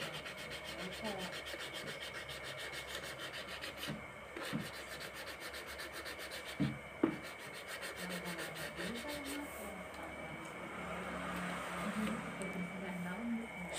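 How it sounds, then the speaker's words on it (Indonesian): Sandpaper scrubs rust from the drum shaft of a Sharp twin-tub washing machine in steady, continuous rubbing strokes close to the mic, with a few sharper knocks partway through. "Ini masih ada sisa karat di as tabungnya, kita amplas dulu sampai licin."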